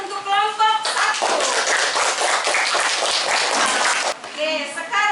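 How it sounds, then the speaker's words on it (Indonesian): Classroom applause for a student group, a burst of many hands clapping from about one second to four, with a teacher's voice speaking briefly before and after. "Tepuk tangan untuk kelompok 1."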